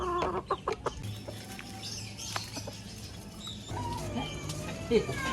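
Chickens cluck and chatter in the background amid outdoor ambience, with a few scattered knocks and soft movement sounds.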